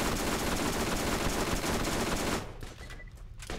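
Rapid automatic gunfire from the Borderlands video game rattles loudly and continuously for about two seconds, then drops back to quieter game ambience.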